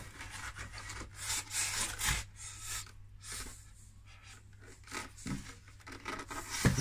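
A hot wire cuts a circle in polystyrene foam, producing soft, close rubbing and scratchy squeaks in uneven strokes over a low, steady hum.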